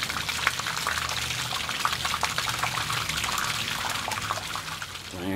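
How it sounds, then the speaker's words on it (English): Continuous splashing and gurgling of water pouring out of a Mazda RX3 fuel tank during cleaning, steady and close, with no one speaking. "just by filling it with water and letting that stuff pour out"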